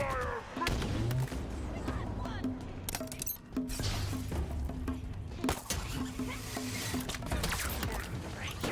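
Incoming gunfire and heavy explosive blasts in the video game Halo Infinite, loud and dense, with repeated booming impacts and crackling shots over a busy in-game soundscape.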